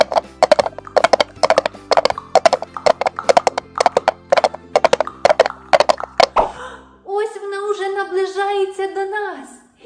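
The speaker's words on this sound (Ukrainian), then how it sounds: "Ви чуєте, як біжить конячка?" A horse runs on a farm with a steady rhythmic clip-clop of hooves for several seconds, then gives a loud whinny; a voice can be heard underneath.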